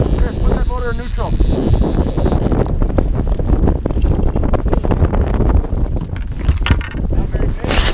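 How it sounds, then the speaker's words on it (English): Gusting wind buffets a microphone on a fishing boat out on open water during a snowstorm, a loud, rough roar that continues under people talking. "It's a snowstorm."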